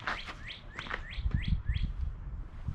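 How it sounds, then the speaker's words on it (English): A bird outdoors chirps in a quick series of about eight bright rising notes, moderately close, over a low background rumble and some thumping. "I can hear that one bird over there shitting its britches already."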